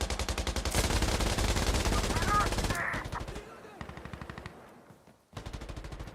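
Rapid automatic gunfire in Insurgency: Sandstorm, a loud close stream of evenly spaced shots in long bursts that break off, then resume after a short pause.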